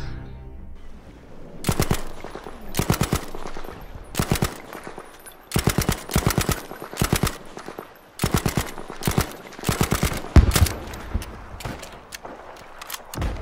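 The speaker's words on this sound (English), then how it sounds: "Now the Sten is a very exciting British submachine gun used in World War II and the Korean War" Bursts of automatic fire from a British Sten submachine gun in a video game, several loud rapid strings of shots separated by short pauses, with no talking.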